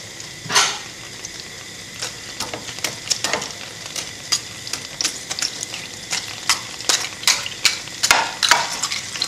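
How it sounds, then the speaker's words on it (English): Water boils hard in a pot with an egg dropped in, giving a dense run of sharp crackling pops and bubbling bursts that come close and fairly loud, with no talking. "As you can see over here, it's boiling. So just throw the egg in."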